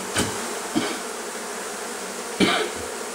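Bees, disturbed during a removal from a wall with honeycomb, keep up a faint buzzing hum, broken by a few sharp knocks or bumps near the start and again later.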